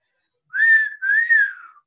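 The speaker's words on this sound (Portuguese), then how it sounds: "E o grilo ensinou para o Pinóquio ele assoviar." A person whistles a short two-note tune, clear and close, alone with no other sound.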